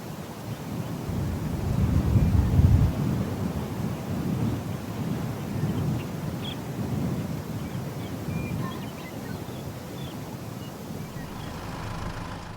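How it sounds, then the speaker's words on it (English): Desert ambience and a looping wind bed for a Unity tank game: a low, rumbling gust swells early and then settles into a steady, hollow blowing that thins toward the end. "One is a basic desert ambience loop, and the other is a wind loop."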